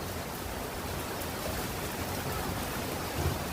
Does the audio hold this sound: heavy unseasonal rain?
yes